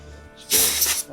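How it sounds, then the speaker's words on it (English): A vacuum pulls at a small carburetor part from a 1969 Honda CT70 in a brief, close burst of airy hissing suction lasting about half a second after a quiet start. "Here, vacuum it."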